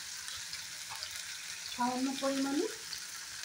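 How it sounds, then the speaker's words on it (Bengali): Tomato, onion and mixed vegetables fry in oil in a pan with a soft, steady sizzle, while a voice speaks briefly over it. "এই সবজিগুলো টমেটো আর পেঁয়াজটা একটু ভাজা ভাজা হোক"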